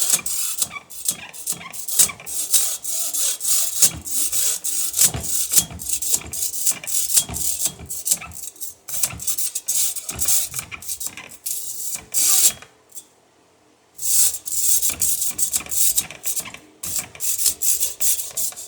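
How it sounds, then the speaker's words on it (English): Hacksaw cutting through a steel wire cable, a rapid series of rasping back-and-forth strokes, close and crisp, with a short pause partway before the sawing resumes. "run the hacksaw across it till you go through."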